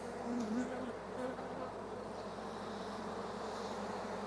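Honey bees humming around an open hive during a late-season inspection, a low steady drone with a few louder buzzing passes near the start, fairly quiet.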